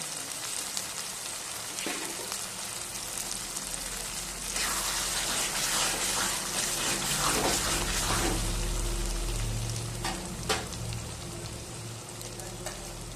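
Masala with green chili paste sautéing in a pan, giving a continuous loud hissing sizzle that swells midway, with a few soft stirring scrapes, close by.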